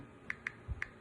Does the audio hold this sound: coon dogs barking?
no